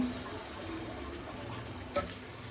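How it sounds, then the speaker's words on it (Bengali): Water poured into a pot of cooking meat curry, a steady soft gushing splash running throughout at moderate level with a brief clink near the end. "দিয়ে দিলাম জল"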